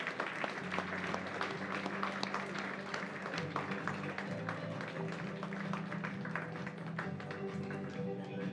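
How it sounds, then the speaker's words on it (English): An audience applauds champion horse breeders at a South African equestrian awards ceremony, scattered claps sounding fairly faint and distant under a steady tonal background hum, with voices talking over it. "Ladies and gentlemen, a warm round of applause."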